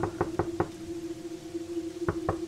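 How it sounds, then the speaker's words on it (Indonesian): Knocks land on a front door at night in two quick bursts of three or four raps, close and sharp, with a steady low tone humming throughout. "terdengar ada ketukan di pintu depan rumah"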